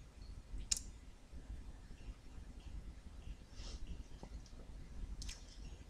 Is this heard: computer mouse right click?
yes